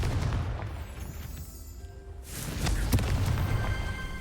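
In Hogwarts Legacy, a Confringo blasting spell explodes with a heavy boom that rumbles, fades, then swells again under ongoing game ambience.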